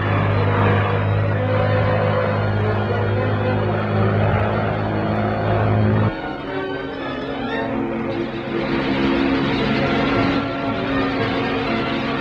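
Hurricane and Spitfire fighter planes roar past with a loud, dense propeller engine drone that shifts abruptly midway, continuous throughout, with narration over it.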